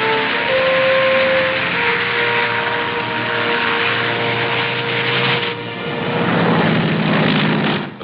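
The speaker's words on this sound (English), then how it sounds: "The first plane landed just 24 hours after the Seabees had started to work." WWII-era aircraft engine droning steadily as a plane comes in to land on the Tarawa airstrip in 1943, a loud continuous propeller roar that shifts near the end, with no talk.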